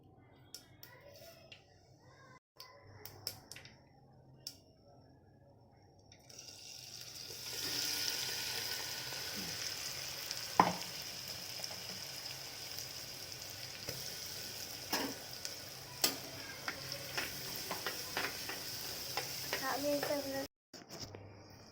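Cumin seeds dropped into hot oil in a pan for masale bhat begin a steady sizzle partway through and keep crackling with a few sharp clinks, quiet and close, while people talk briefly.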